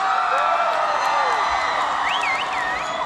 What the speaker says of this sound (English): Can we have a big round of applause for our Starkers?